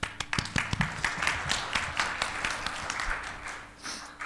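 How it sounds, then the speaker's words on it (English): A conference audience at a medical data symposium applauds a session chair, many hands clapping in a dense, steady patter that fills the room and holds for several seconds without talk. "Let's give him a big round of applause."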